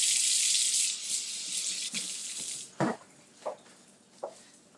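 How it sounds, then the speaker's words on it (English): A kitchen tap runs steadily as hands are washed during home cooking, a close hiss of water that fades after a couple of seconds, followed by a few scattered splashes and knocks at the sink. "Wash my hands and I'll show you."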